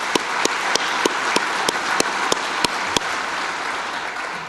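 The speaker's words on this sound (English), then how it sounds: "Let's give him a round of applause." An audience at a 2014 Chamber of Commerce awards gala applauds: a short, steady round of clapping with a few sharp individual claps popping out at a near-even beat.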